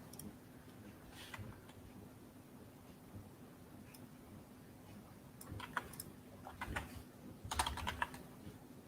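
Keys clack on a computer keyboard while slide text is typed in PowerPoint. The clicks are quiet and scattered at first, then come in busier bursts near the end, with no talking.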